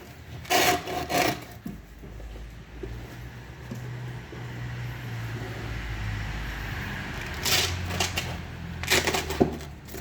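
Homemade disc sander driven by a washing machine motor, a steady low whirring hum with a slight wobble, joined by several loud rasping bursts of abrasive contact near the start and end.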